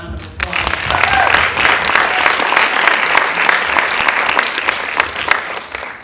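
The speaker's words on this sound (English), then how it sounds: "just give them another round of applause" A film festival audience at the Roxbury Film Festival gives a round of applause for the shorts filmmakers, sustained, close and fairly loud clapping with a few scattered voices.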